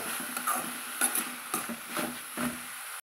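A spoon stirs tomatoes and grated coconut in a pan for a tomato curry, giving a few soft scraping strokes and light clinks over a quiet sizzle, close and fairly faint, with no voices.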